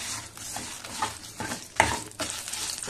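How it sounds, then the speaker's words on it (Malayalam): Dried red chillies and curry leaves fry in a hot pan for an instant ginger curry spice mix: a steady crackling sizzle with scraping stir strokes and one sharper clink near the end, with no talk. "അതിനകത്തോട്ട് വറ്റൻമുളക് ഇട്ട് ഇങ്ങോട്ട് വറുത്തെടുക്കാം."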